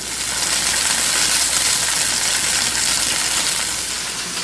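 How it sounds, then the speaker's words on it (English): Beef searing in a hot pan for beef stroganoff produces a loud, constant hissing sizzle that holds steady throughout, with no talking. "I'm going to sear this on both sides"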